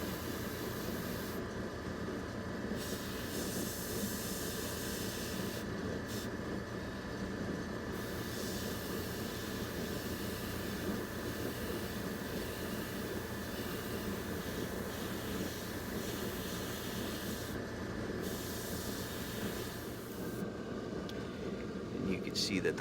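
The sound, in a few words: airbrush spraying ink onto a painted bird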